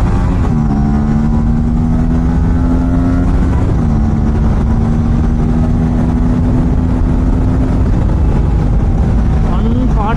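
Engine of an Aprilia RS457 motorcycle cruising in eco mode, a steady close drone that dips slightly partway through and swells again near the end, with continuous rushing wind and road noise throughout.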